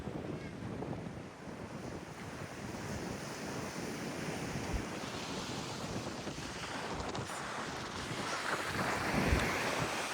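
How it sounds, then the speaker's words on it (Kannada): Strong wind buffets the microphone in a steady roar, with surf washing in the background and gusts swelling toward the end; no talking. "ಗಾಳಿ ಸಿಕ್ಕಾಪಟ್ಟೆ ಜೋರಿದೆ."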